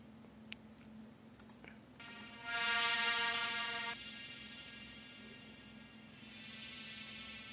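A synth lead with a long, high-passed reverb sounds as a bright, thin tone that swells in, sustains, then fades into a faint airy wash. A soft later swell returns over low hum and a few light clicks.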